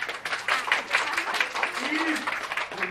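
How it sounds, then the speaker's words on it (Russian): Schoolchildren clapping at a New Year school party, a short burst of lively, dense applause from a crowd indoors, with some voices mixed in. "А ну похлопаем третьему А"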